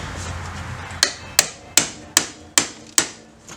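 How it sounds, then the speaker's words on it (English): Six crisp metallic hammer taps ring out at a steady pace, striking near a pry bar to free the axle shaft from a Yamaha Grizzly ATV rear differential, with no talking in between. "I just use a pry bar, kind of get in there, tap it with a hammer."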